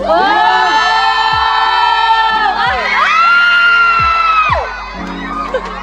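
A crowd at a screening event for a teen drama cast cheers and screams in long sustained high-pitched waves, loud and close, with shrill whoops rising and falling, a rhythmic clapping or thumping beat underneath, then fading near the end.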